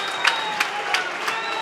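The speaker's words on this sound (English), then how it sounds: "urged on by the crowd here at the Shay to get the third, the decisive third" Home crowd at the Shay football ground during an FA Cup tie between FC Halifax and Guiseley, a steady wash of applause and cheering with faint rhythmic claps rising through it.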